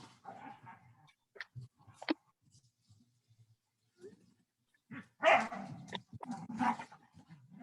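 Several dogs roughhousing at home bark, yip and whimper close by, sometimes in scattered single sounds with short pauses and sometimes in louder bursts. No one speaks.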